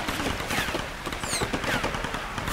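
Enemy gunfire in the 2013 Tomb Raider game, a dense continuous rattle of automatic shots with a few ricochet whines, steady and fairly loud throughout.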